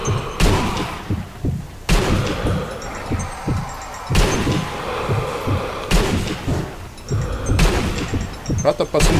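Gunfire in the Zombie Army Trilogy video game, with several heavy rifle shots and booming impacts at irregular intervals and busier bursts near the end, while someone talks in between.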